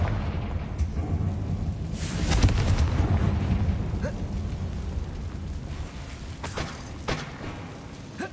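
A Confringo explosive spell blasting inside a closed, tomb-like mine in the Hogwarts Legacy video game, giving a rumbling, thunder-like boom with a few sharper cracks later, moderately loud against a constant low game ambience.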